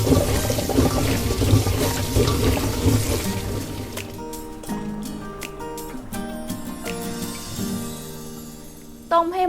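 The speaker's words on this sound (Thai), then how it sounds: "ไปล้างทำความสะอาด แล้วเอามาต้มเนาะ" Purple sweet potatoes being washed under running water, with a steady stream and splashing from a tap into a sink, then drips and clatters as the flow tapers off, close by.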